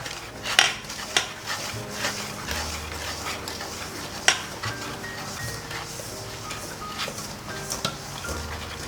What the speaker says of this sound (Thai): ให้เพื่อนๆทยอยใส่น้ำตาลเคี่ยวลงมานะครับ แล้วก็กวนไปเรื่อยๆเลยครับ